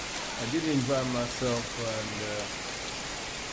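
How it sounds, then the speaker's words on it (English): Heavy rain pours down in a steady wash of noise throughout, with someone talking briefly over it in the middle. "It's raining heavily for the cats and dogs."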